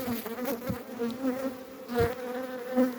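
Steady droning buzz of many bees, continuous and fairly close, with pulsing swells in loudness and no talking.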